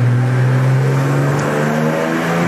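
A Chevrolet Opala engine on a dynamometer holds a loud, steady, droning rev with strong low harmonics. The pitch creeps slightly upward and stays sustained and close throughout, with no talking.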